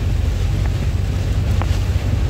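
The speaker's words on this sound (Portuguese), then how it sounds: "Muita chuva mesmo, muito vento." Heavy rain and strong wind buffet a truck during a storm, making a loud, steady roar with deep gusting rumble and a couple of brief sharper spatters, no talking.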